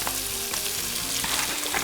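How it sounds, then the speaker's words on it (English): Onions fry in hot bacon grease in a pot with a dense, steady, close sizzle and crackle, continuous throughout, with no voices. "And when it sizzles, it's ready."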